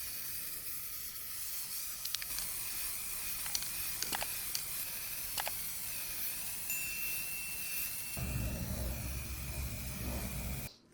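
Spray paint hissing from an aerosol can onto a charcoal grill being refurbished, a continuous close hiss with a few sharp clicks, growing louder and rougher near the end, with no speech.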